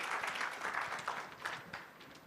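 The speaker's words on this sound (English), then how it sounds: "And a round of applause to" Audience applause for a panel at an aviation conference, a soft, fairly distant wash of many hands clapping that fades slightly toward the end.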